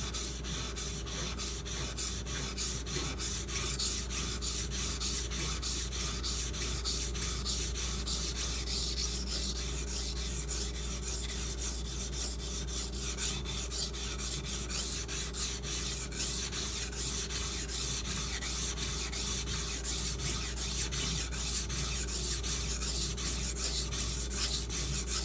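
A Karaku Bunka kitchen knife of Aogami steel is thinned on a coarse sharpening stone, giving a steady, continuous rhythmic scraping and rubbing that stays close and even throughout, with no voice.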